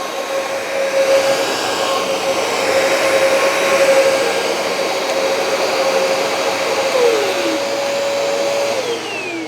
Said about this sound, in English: now I'm going to release the trigger and just do suction